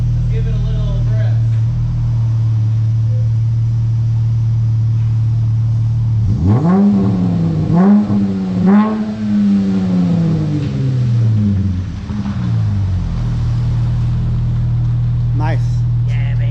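A Dodge Charger GT AWD V6 with its rear muffler deleted idles with a deep steady rumble, then gives three or four sharp throttle blips that rise and fall in pitch before settling back to idle, close and loud.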